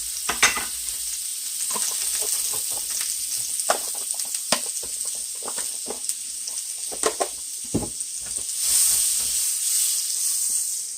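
Butter heats in a pan on moderate heat before ribeye steaks go in, giving a steady close sizzle and hiss with scattered sharp pops and spatters and a brief rise in frying noise toward the end.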